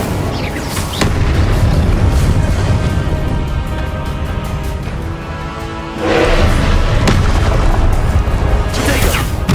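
A fiery Incendio spell blast in Hogwarts Legacy, dense loud booming bursts filling the scene, with a sharp crack near the start and a fresh surge of explosive roar partway through, mixed with game noise and some speech.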